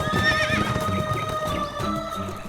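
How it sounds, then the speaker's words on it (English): Cartoon horses of a band of thieves neigh and whinny outside a cave, with clip-clop hooves as they ride away; several loud, close whinnies over steady galloping. "The thieves then climb onto their horses and ride away."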